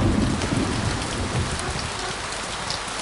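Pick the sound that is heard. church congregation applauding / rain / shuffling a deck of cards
rain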